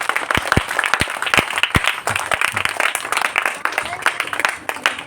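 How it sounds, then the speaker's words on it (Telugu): An audience claps together at a stage event, a dense continuous applause with sharp individual claps standing out close by, sustained through the whole stretch with some voices mixed in. "అందరూ కూడా చప్పట్లు కొట్టండి."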